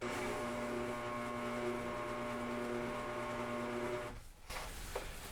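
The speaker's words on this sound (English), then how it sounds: "So to cut the inner wall, I'll use this as a guide with my blade." A reciprocating saw blade cuts through interior drywall with a steady, loud buzzing drone that runs unbroken, then cuts off near the end before a brief restart, with no speech.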